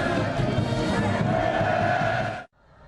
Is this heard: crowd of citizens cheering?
yes